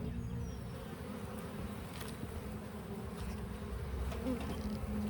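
Dense honeybee buzzing from an opened hive during an inspection, a steady close-up drone of many bees with individual wingbeats flitting past the microphone.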